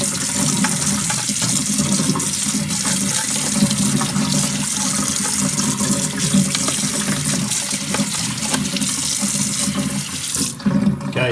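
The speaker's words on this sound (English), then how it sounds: "Alright, so I've given the unit a quick rinse out under some RO." A protein skimmer unit from a saltwater reef sump being rinsed under running RO water, a loud continuous splashing stream from a tap that holds steady throughout, briefly dipping near the end, with no speech.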